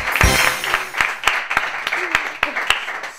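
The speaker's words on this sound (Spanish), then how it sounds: "¡Un aplauso!" Sparse claps from a small game-show audience start as a short burst, then thin out into a few scattered, uneven hand claps with some voices mixed in.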